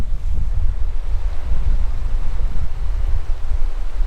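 Strong wind buffets the microphone in a Himalayan mountain village at about 13,000 ft, a loud, steady low roar with gusting rumble and no voices.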